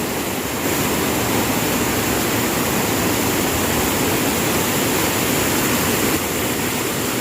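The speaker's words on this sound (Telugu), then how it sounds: "ఇక్కడ చూడండి ఫ్రెండ్స్, వాటర్ చాలా ఫోర్స్గా వెళ్తున్నాయి" Floodwater rushes through the Handri-Neeva canal after Cyclone Nivar rain, a loud, unbroken close-up roar of churning water that holds steady from start to finish with no talk.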